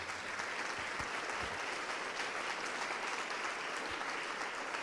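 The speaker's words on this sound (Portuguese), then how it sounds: "vamos aplaudir mais ao nome de Jesus" A church congregation applauds steadily and loudly throughout, a dense wash of clapping with no pauses, filling the sanctuary during a worship service.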